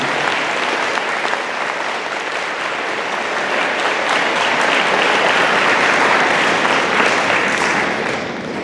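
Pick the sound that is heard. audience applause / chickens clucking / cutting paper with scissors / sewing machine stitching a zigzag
audience applause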